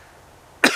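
A single sharp cough bursts out near the end after near silence, close and loud, from a person outdoors in the cold Blue Mountains.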